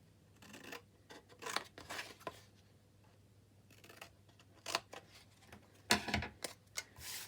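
Small scissors snip paper into tabs for a gnome-themed chocolate box, a series of crisp close cuts in irregular clusters against a quiet room.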